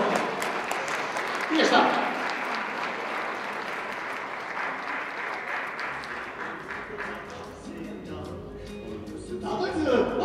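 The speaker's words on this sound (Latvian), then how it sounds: "Un aplaus klubs ar viens otru!" A concert audience applauds, the dense, sustained clapping of many hands filling the hall before it thins out near the end, while a host's voice cuts in over it.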